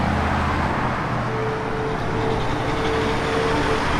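A 1961 Chevrolet Impala SS on the move, its engine and road noise forming a steady, loud rumble with a faint tonal hum throughout, no talking.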